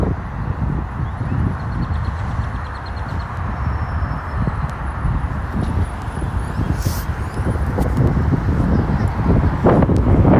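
Street traffic with a bunch of cars passing nearby, a loud continuous roar with wind buffeting the microphone, swelling louder toward the end, and no speech over it.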